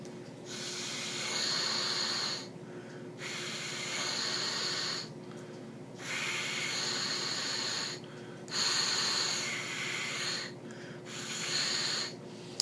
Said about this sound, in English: just without me having the instrument attached, and I'm just blowing air.